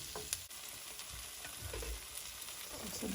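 Pork menudo with liver spread sautéing in a pan: a steady close sizzle with scraping stirs and a few clinks of a utensil, moderately quiet, and no speech over it.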